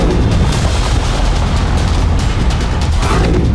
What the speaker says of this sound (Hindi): 22 दिसंबर को यहां ज्वालामुखी जैसा ब्लास्ट हुआ